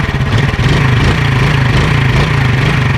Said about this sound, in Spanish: Metemos primera, presionamos un poco el cambio y revolucionamos